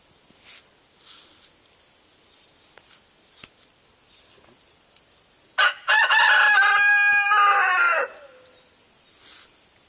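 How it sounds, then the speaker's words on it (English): A rooster crows once, loud and close, a long drawn-out call lasting a couple of seconds amid faint background chirps and rustling. "Mr. Noisy Pants the Rooster may be commenting the whole time"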